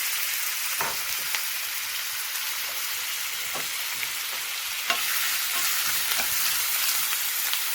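Spices sizzle and fry in oil while being stirred for aloo masala paratha filling, a steady close hiss with scattered crackles and scraping stir sounds throughout, no voices.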